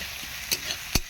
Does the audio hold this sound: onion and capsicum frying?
yes